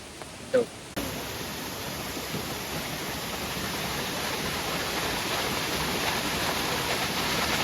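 Beulach Ban waterfall in Cape Breton roars as a steady, broad wash of falling water on a rainy day, constant and fairly loud after a brief thump at the start.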